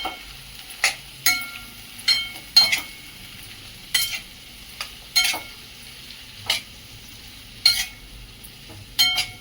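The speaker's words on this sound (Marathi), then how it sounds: "दोन ते तीन मिनिट आपल्याला भाज्या परतून घ्यायच्या आहेत" Mixed vegetables sautéed in a pan for veg pulao: a continuous soft sizzle broken by repeated sharp clinks and scrapes of a spoon stirring at a steady, uneven rhythm.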